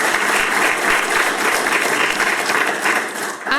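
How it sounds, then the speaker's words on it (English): An audience at an arts panel discussion applauds steadily with dense, continuous clapping that fades slightly at the end. "please give them a round of applause"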